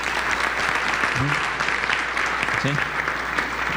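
Dense audience applause at a conference talk carries on steadily, with a couple of short spoken interjections heard over the clapping.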